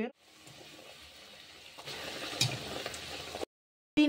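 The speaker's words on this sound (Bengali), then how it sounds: "আমি এখানে তেলটা গরম করতে দিয়েছি, লুচিগুলো ভেজে নেব" Luchi, puffed flatbread, frying in hot oil in a home kitchen: a steady broadband sizzle that grows louder partway through, then cuts off abruptly before a brief return.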